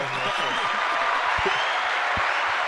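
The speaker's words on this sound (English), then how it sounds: "Can we get a drop for it? The round of applause." A round of applause dropped in as a sound effect after a Carolina Panthers football win, a steady dense wash of clapping running the full length under a host's voice.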